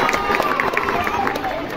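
Spectators at a kho-kho final match cheering and clapping, a dense noisy crowd roar with scattered claps and voices, loud and continuous over a short stretch.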